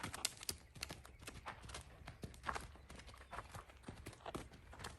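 A horse being ridden and trained moves about, its hooves giving soft, irregular clip-clop beats, faint and fairly distant, with no talk.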